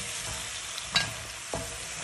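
Pork spare ribs are stirred in a large frying pan, with a steady sizzle throughout and two brief scraping clatters of the utensil against the pan.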